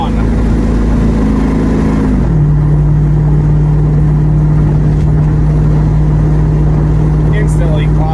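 A car engine and exhaust drone loud and steady while driving at cruising RPM before overdrive engages; the droning pitch steps down early on, then holds constant over a continuous road rumble.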